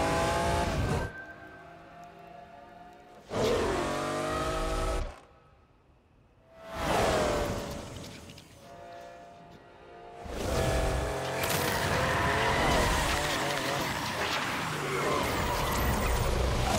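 A car in the racing video game Need for Speed Unbound revs and accelerates through several loud engine bursts with short quieter gaps, then settles into a sustained roar at speed.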